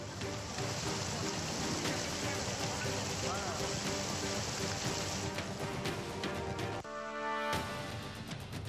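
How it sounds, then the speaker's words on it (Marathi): Heavy unseasonal rain pours down with hail near Wathar Station in Satara, a dense steady hiss that stays loud and constant throughout. "अनेक भागांमध्ये अवकाळी पावसासह तुफान गारपीट झाली"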